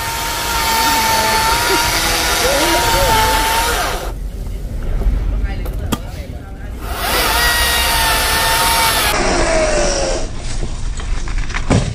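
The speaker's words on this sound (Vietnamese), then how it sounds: "Cưa cái mạch lớn." Chainsaw cutting through the trunk of an old lychee tree over twenty years old, a loud steady engine drone with harmonic whine running through most of the stretch, dropping off briefly in the middle before resuming, with voices talking over it.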